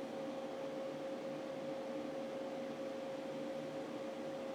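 Cooling fans on a 48V inverter test setup drawing about 45 amps run as a steady whir with a constant tonal hum, unchanging throughout.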